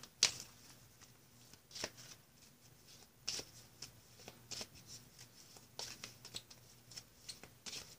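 Oracle cards being shuffled by hand, a run of soft, crisp riffling bursts at irregular intervals, close and quiet.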